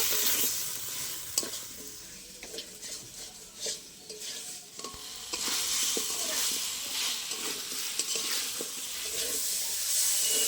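Potatoes frying with spice paste in an oiled pan for a cabbage ghonto, giving a loud, continuous sizzle and hiss with frequent stirring scrapes and metal clinks, rising louder toward the end.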